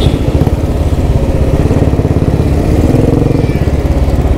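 A Royal Enfield Thunderbird motorcycle engine runs loud and close, a deep, steady single-cylinder thump with a fast even pulse that continues without a break.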